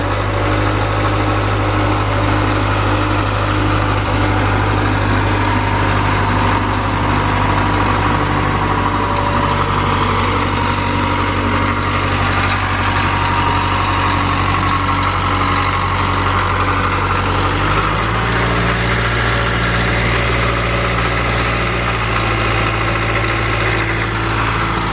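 A 1978 Caterpillar D3 bulldozer idles loud and close just after starting, a steady low diesel rumble that drops slightly in pitch near the end.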